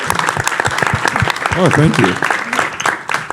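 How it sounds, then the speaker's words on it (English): Audience applause at a VFX industry talk as a speaker is invited to the stage; loud, steady clapping close by, with a voice briefly speaking over it. "Let's give him a round of applause."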